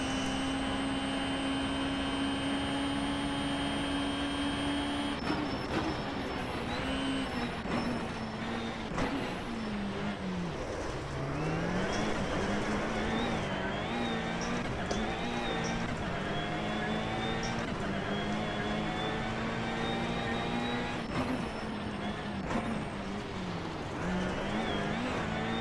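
A Hyundai i20 WRC rally car engine in Richard Burns Rally revs hard and steadily, with pitch rising through the gears and dropping sharply at each shift, a loud continuous drone heard alone.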